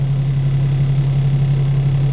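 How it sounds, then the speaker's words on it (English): A Pierce Arrow XT fire truck engine runs loud and close with a steady deep drone, holding level rather than climbing sharply through the short stretch. "You can hear the engine increasing."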